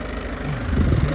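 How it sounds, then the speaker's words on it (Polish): A Peugeot car engine idles with a steady low, loud rumble and a slight rise in throb toward the end of the short stretch, with no voices. "Praca silnika głośna, normalna."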